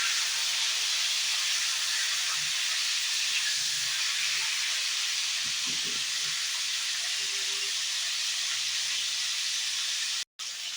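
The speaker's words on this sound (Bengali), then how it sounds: "এবার ফুলকপিটাকে একটু ভেজে নিতে হবে" Cauliflower florets fry in oil over a low flame, giving a steady broadband hiss with a few soft knocks, ending in a brief dropout.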